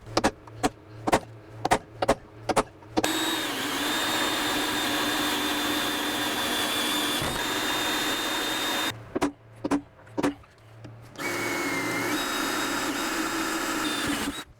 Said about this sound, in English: where we just drilled that last hole out